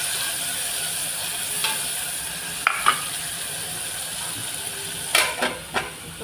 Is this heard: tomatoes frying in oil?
yes